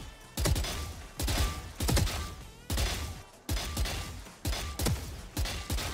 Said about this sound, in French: Vous faites un petit spray au niveau de la tête de 2 balles.